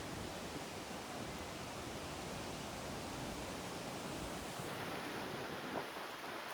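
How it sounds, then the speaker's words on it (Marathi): Monsoon waterfall plunging straight down onto rock near Visapur Fort, heard as a steady, dense roaring wash that holds level throughout with no pauses and no voices. "मला इकडनं एक धबधबा दिसतोय, तो डायरेक्ट खाली पडताना दिसतोय कातळावरती"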